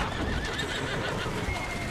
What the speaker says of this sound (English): Oh god, this horse is in the road.